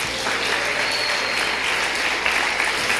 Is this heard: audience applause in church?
yes